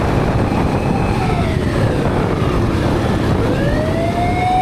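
An ambulance siren wails on the road, its rising and falling tone heard over loud steady road and engine rumble, with no one speaking.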